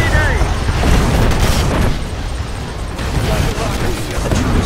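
Rocket explosions boom and rumble in heavy succession while a base comes under attack in the real-time strategy game Command & Conquer 3: Kane's Wrath. The loud, continuous barrage fills the whole stretch, with a voice talking over it.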